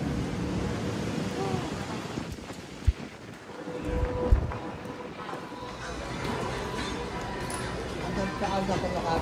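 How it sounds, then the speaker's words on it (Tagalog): Strong wind blowing outdoors: gusty roar buffeting the microphone with rising and falling surges and a couple of hard thumps, while people talk through it. "Mahangin talaga at may gagawin."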